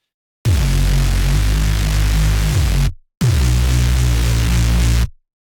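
A bass synth run through trash overdrive and EQ plays two long, heavy, gritty notes with a deep low end and a buzzy distorted top, separated by a short gap.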